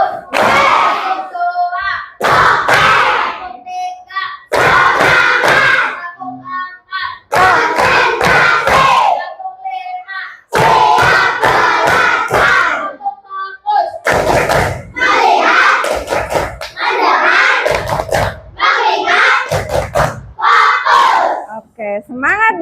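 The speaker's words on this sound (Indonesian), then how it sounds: "Tepuk tangan." A fourth-grade class at an Islamic primary school chants loudly in unison in short bursts, punctuated by sharp hand claps, all close and loud in a classroom with brief pauses between phrases.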